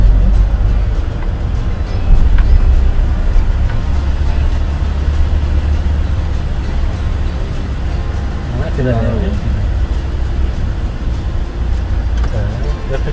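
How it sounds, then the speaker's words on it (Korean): A car pulls away in second gear and accelerates, its low engine drone running underneath someone talking throughout, with a brief rising tone partway through. "다시 2단 넣고 출발. 엑셀 밟고 쭉"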